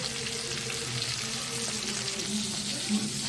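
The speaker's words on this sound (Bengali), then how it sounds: "এইভাবে মাছগুলোকে আমি ভেজে নেব।" Small bacha fish fry in hot oil in a home kitchen with a dense, steady sizzle that holds evenly throughout, close and continuous.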